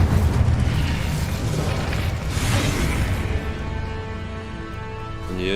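An Incendio fire spell is cast in Hogwarts Legacy, making a dense, roaring whoosh of flame with booming crackles that fades into a lower rumble, ending with a brief bright tonal flourish.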